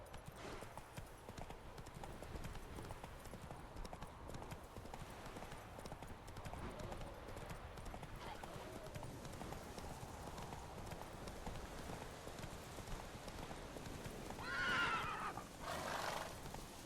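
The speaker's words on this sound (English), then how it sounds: "Whoa there, Roach" Hoofbeats of a horse at a gallop in the video game The Witcher 3, a steady faint clip-clop under ambient game sound, with a brief neigh near the end.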